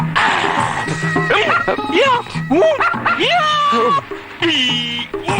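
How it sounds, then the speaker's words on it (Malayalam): A dog barks and yips several times in quick, irregular bursts at close range, with brief pauses between the barks. "പട്ടി പട്ടി"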